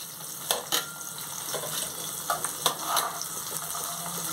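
Onions and chillies frying in a pan, a soft steady sizzle broken by several brief sharp clinks and stirring knocks, close and fairly quiet, no voices.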